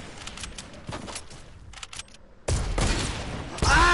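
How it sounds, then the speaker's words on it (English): Gunfire from a hunting rifle in a multiplayer shooter game: loud sharp shot bursts cutting in hard over fainter background clatter, with excited game action filling the latter half. "Hunting rifle!"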